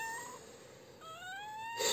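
A newborn kitten, wet and left by its mother, gives two thin, high, rising meows in close succession, close and fairly loud with no talking.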